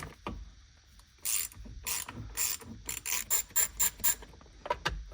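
A ratchet works loose 10mm bolts on the back of an NA Miata steering wheel, with rapid clicking bursts repeating in quick succession, close and crisp, after a quieter start.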